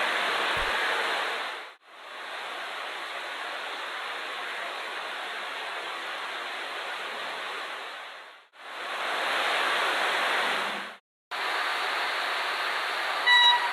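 A train rolls past the platform at Colombo Fort station in Sri Lanka, a loud, steady rumble and wheel roar that runs through the whole stretch, with two brief dips as gaps between carriages pass.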